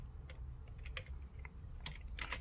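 Fingers type a command on a computer keyboard while setting a static IP gateway, sounding as scattered quick key clicks in short bursts over a low steady hum, close and fairly quiet.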